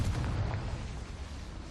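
A Confringo fire spell explodes in Hogwarts Legacy on Switch 2, a single low rumbling blast that decays into a short roaring tail, moderately loud.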